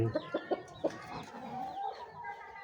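An Aseel breed rooster on a farm gives four short, close clucks in the first second, followed by softer, continuing fowl sounds.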